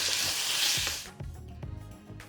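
Tomato, chilli and cashew gravy for a paneer butter masala sautéing in a pan: a loud broadband sizzle for the first second, then quieter scraping stir strokes and soft clinks of a spoon against the pan.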